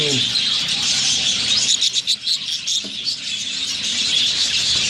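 Pet budgies in a breeding cage with three chicks and a male and female chirp and squeal in a busy, high-pitched chorus, close and loud, with a brief quieter patch midway where a voice may be heard.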